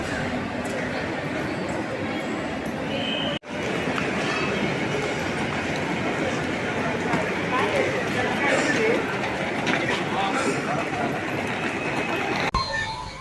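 Busy railway platform 17 at CSMT in Mumbai with the Udayan Express, a dense wash of crowd murmur, announcements and rail noise, steady and loud, with someone talking close over it.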